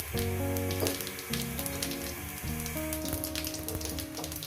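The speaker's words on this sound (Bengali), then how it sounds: "গোটা জিরে ফোড়ন দিলাম" Whole cumin seeds sizzle in hot oil for tempering a rohu fish curry, a soft steady crackle running beneath louder background music throughout.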